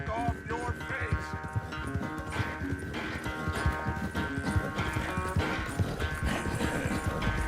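Horse hooves clip-clop steadily in Red Dead Redemption 2, a continuous trotting rhythm under game music, with an occasional whinny.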